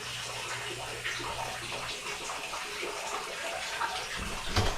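Water running into a tub or sink at steady volume, alone without talk, with a low hum fading partway through and a louder splash near the end.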